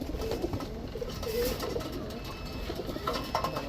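A male Tiger Racer pigeon coos softly in a loft, a few low murmuring calls over steady background noise, with faint distant rumbling.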